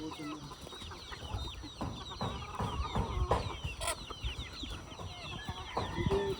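Farm chickens clucking in a busy chorus, overlapping clucks and calls close and far with a rooster crow faintly among them, no talk over it.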